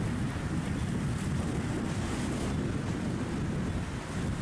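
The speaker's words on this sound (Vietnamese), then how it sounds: "Gió lắm gió anh em ơi." Strong wind buffeting the microphone at the Lagi seaport harbor mouth where fishing boats go in and out, a loud continuous roar mixed with surf wash, with no voices.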